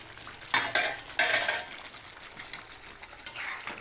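Meat being stir-fried for kosha in a pan, a spatula scraping and stirring in loud, close bursts over a constant crackling sizzle.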